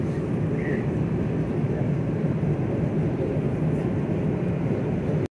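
A new passenger jet in flight fills the cabin with a constant, loud, low roar and rush of air, steady throughout and cutting off abruptly at the very end.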